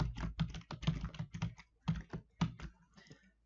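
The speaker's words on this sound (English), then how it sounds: "Now type in your username and your password." Quick, irregular keystrokes tapped on a computer keyboard to enter a username and password, close and fairly quiet, in short clusters with brief pauses.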